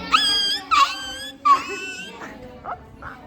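A child imitates a dog with a few short, strained whimpering yelps in quick succession, fading into softer cries at a children's celebration.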